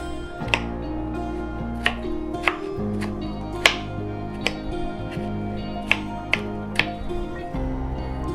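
A knife chops zucchini on a cutting board in a home kitchen, about a dozen sharp, separate taps at an irregular, unhurried pace, close and clear over a quiet background hum.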